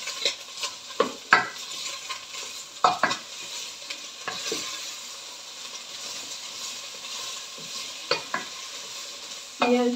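Green bean and meat stew with broad beans and spices being stirred in a pan: repeated scraping and clacking strokes of a spoon over a continuous soft sizzle, close and fairly loud, with a pause mid-clip.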